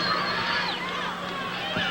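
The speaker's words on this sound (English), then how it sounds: "The crowd at this point was on its feet and yelling" A wrestling crowd at a tag team match, on its feet, cheering and yelling continuously in a dense, loud roar with overlapping shouted voices.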